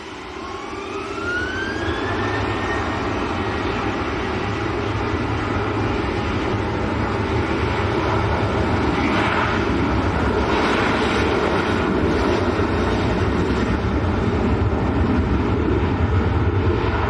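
A Ryanair jet bound for Lisbon passes at Manchester Airport, a sustained loud engine roar that swells after a rising whine in the opening seconds and holds steady throughout, with no talking.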